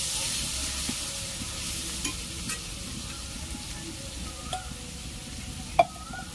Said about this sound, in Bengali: একটু জল দিয়ে দিচ্ছি মশলাটা যাতে কড়ার গা থেকে ছেড়ে যায়। ভালো করে কষিয়ে নিচ্ছি।